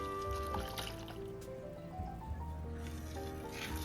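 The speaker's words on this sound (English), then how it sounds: "Add 1 cup of milk." Milk pours steadily into boiling milk tea made with cardamom, a soft continuous trickle and bubbling close by with a low steady hum underneath.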